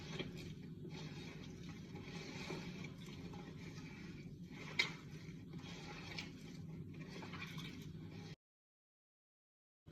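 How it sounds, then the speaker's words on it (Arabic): Oil trickled gradually into butter and sugar being mixed for Moroccan ghriba cookie dough, a faint, steady wet swishing that runs for about eight seconds and then stops abruptly. "غنضيف الزيت بالتدريج، نحاول ندخل داك الزيت في الزبده والسكر"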